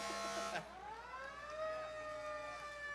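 An ambulance siren wails and sweeps in pitch during a Fourth of July parade, steady and moderately distant, with no one speaking over it.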